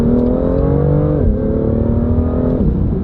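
A flash-tuned BMW M2 engine revs hard and loud up close, its pitch climbing and then dropping sharply at each gear change through upshifts and downshifts.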